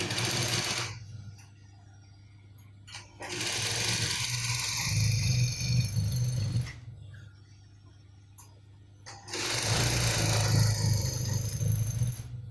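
A sewing machine top-stitches fabric for an agbada outfit in two long whirring bursts of rapid needle chatter, each several seconds, separated by a short quiet pause, close and fairly loud.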